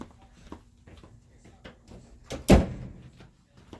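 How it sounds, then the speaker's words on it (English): A door is pushed shut with one solid thud standing out clearly above faint room noise and scattered small knocks. "Here, I'm going to shut this door"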